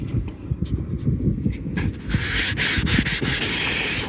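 Power sander working aged varnish off wooden cabin top grab rails on an Arends 33 sailboat, a steady close rasping rub that grows brighter and harsher partway through.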